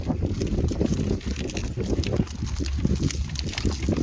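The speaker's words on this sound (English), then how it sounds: "As you can tell, it's rather windy out here." Strong gale-force wind roars continuously outdoors on a playa, buffeting the microphone with a loud, steady rush and rumble and no pauses.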